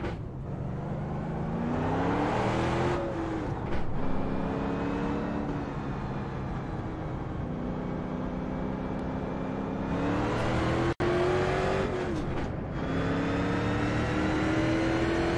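A race car engine in the iRacing sim holds a steady, continuous drone with rising and falling pitch as it revs up and eases off, loud and close throughout with no talking.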